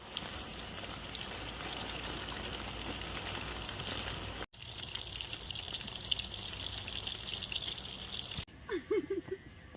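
Oil poured into a hot pan and sizzling in a home kitchen, a steady broadband crackle that runs nearly throughout, cut by a brief gap, then fading out near the end.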